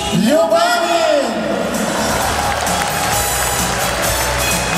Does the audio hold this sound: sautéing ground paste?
no